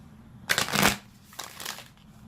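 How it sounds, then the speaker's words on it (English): Two short, crisp riffles of tarot cards being shuffled close up, the first longer and louder than the second. "I'm gonna shuffle."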